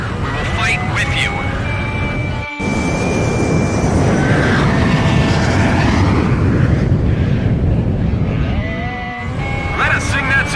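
Yuktobanian fighter jets roar through Ace Combat 5: The Unsung War, a steady, dense engine rush filling the whole stretch, with a brief dropout partway and tonal game sounds layered over it.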